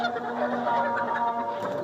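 A large flock of layer hens in a poultry shed makes a steady, dense chorus of overlapping clucks and murmurs that fills the space at a constant, fairly loud level.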